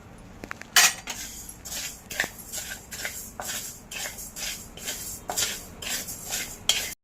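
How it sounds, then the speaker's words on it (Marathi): A utensil stirs 100 grams of coriander seeds dry-roasting in a pan for garam masala. The seeds shuffle and scrape in repeated close strokes, with occasional clinks and no speech. "तर आता आपण हे धणे अगोदर भाजून घेऊया."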